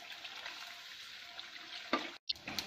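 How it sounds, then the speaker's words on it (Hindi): Aloo bonda for a vrat recipe frying in oil over a medium flame, giving a steady, soft bubbling hiss. A brief clatter comes near the end after a short break. "सब तरफ से उसे फ्राई कर लीजिए, कोई साइड कच्ची ना रह जाए"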